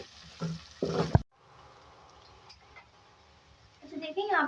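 Two medium chopped onions fry in oil with a low, even sizzle, after someone speaks briefly at the start; her voice returns near the end.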